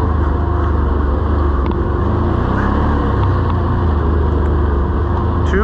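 A Can-Am Outlander XT-P Max 1000R ATV on ITP Cryptic 30-inch tires climbs an icy hill, its engine a loud, steady, close rumble that holds throughout.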